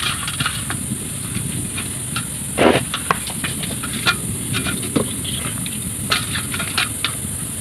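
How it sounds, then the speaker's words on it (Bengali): Mustard gravy for steamed hilsa fish simmers in a pan, giving a steady soft hiss and bubbling broken by scattered pops and crackles, with one louder burst of sputtering partway through. "ঝোলটা ভালোভাবে ফুটে গেছে"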